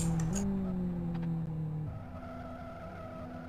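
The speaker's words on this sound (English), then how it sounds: "Celebrating it with some donuts and causing thereby the yellow flag in Sector 2." A race car spins donuts after winning a heat race, its engine note sweeping and tires screeching in a loud, sustained skid that drops off midway, followed by a quieter idle and a sharp burst at the end.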